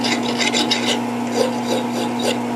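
A hand file rasps along a freshly hacksawed metal edge to strip off the burr, producing repeated quick scraping strokes in an even back-and-forth rhythm, close and fairly loud, over a steady electrical hum.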